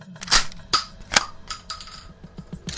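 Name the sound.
shotgun blast sound effect in Shadows of Brimstone playthrough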